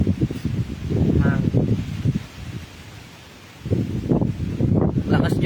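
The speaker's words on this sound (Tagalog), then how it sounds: "Malakas po yung hangin dito kayo sa amin" Gusts of wind buffet the microphone in rumbling bursts, easing off briefly before roaring back, with a rustling, blustery texture throughout.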